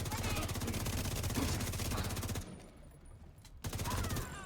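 Rapid automatic fire from the Elmo assault rifle in The Division 2, a dense steady burst for over two seconds, a brief pause, then another sustained burst; loud and close with a faint voice underneath.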